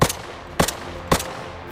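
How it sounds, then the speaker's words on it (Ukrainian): Three rifle shots ring out in the military shooter game Arma Reforger, evenly spaced about half a second apart, each a sharp loud crack with a short echoing tail, over faint background ambience and no talk. "Я стріляю."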